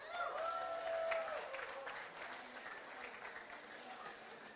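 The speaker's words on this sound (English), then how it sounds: "So big round of applause for the ATX DAO team who were able to put this together." Soft, distant applause ripples through an audience at an ATX DAO meetup, with a voice heard briefly at the start and the clapping continuing at a low, even level.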